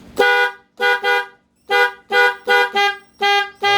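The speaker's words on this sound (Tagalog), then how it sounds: "Busina." A motorcycle horn with a nasal tone from a wiring fault honks repeatedly in short blasts, some in quick pairs, loud and close with brief silences between.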